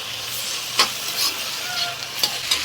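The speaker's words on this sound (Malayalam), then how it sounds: "നമുക്കൊരല്പം ഉപ്പ് കൂടി ചേർത്തിട്ട് സവാള ഒന്ന് വഴറ്റിയെടുക്കാം" Sliced onion with salt sautéing in a hot pan, a continuous close sizzle broken by a few sharp scrapes of a spoon stirring.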